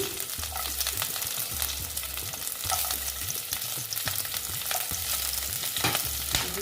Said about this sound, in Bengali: তারপরে দিচ্ছি আদা দেখো তারপরে কাঁচা লঙ্কা দিয়ে দিলাম